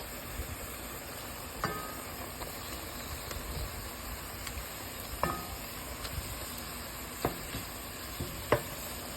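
Ground meat and tomato paste cooking in a pot for a Sicilian Bolognese, a low, steady sizzle and hiss with a few faint clicks of a spoon, quiet and close with no voices.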